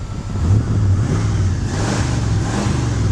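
A 1972 Ford F100 pickup with a 302 V8 running nearby, a loud, steady low engine rumble with a slight swell in revs partway through, no talking.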